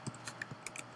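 Keys tapped on a computer keyboard to type a signature, about eight quick, light clicks in an uneven rhythm, close and quiet, with no voice.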